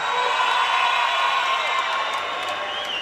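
A large crowd at an MMA fight night cheers and applauds steadily, a broad wash of whoops and clapping at moderate distance, continuous and fairly loud with no one speaking over it.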